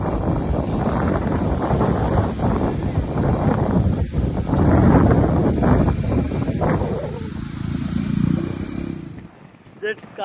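A speed boat ride at an eco-retreat in Bhitarkanika, with steady wind buffeting the microphone over a droning engine and rushing water, loud and continuous before dropping off near the end, with voices talking faintly.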